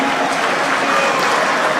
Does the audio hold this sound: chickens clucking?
no